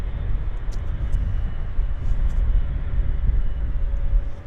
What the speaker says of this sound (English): So let's go back to our 330. This will be a nice takeoff, I think.